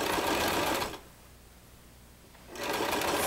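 Sewing machine stitching fishtail skirt fabric: a loud, rapid mechanical whir that runs, stops for a quiet second or so, then starts up again at full speed.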